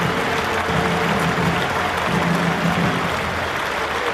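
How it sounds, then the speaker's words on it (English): A full house of cricket spectators at the Rose Bowl in Southampton applauds warmly during a Pakistan vs England match, a steady wash of distant crowd clapping throughout. "Warm applause from this full house at the Rose Bowl on the south coast, Southampton"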